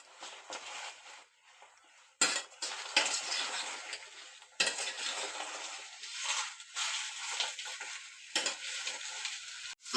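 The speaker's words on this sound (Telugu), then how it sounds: "బాగా మిక్స్ చేసుకున్నాం పోపు అంతా కలిసేటట్టు." Wild mushroom curry with tempering is stirred in a pan, soft frying hiss interrupted by several louder bursts of scraping and clinking from the spoon, with short quiet gaps between strokes.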